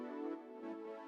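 Muffled piano chords from a MIDI track, a soft, dull sustained chord with rounded tone and little brightness, heard alone for about a second.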